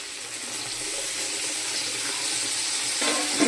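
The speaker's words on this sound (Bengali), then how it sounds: "এবার আমি জল দিয়ে দিচ্ছি।" Water pours steadily into a pan of prawn curry after the spice paste has been fried down, a continuous close splashing stream with a brief bubbling rise near the end.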